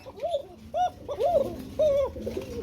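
Pigeons cooing at a farm, several distinct rolling coos in a row close by, with a faint murmur of background sounds underneath.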